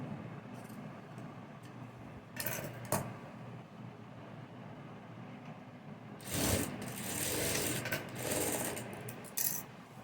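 Sewing machine stitching blouse fabric, right sides placed together: short whirring bursts of needle running near the start, then a longer loud run after a pause, with quiet handling between.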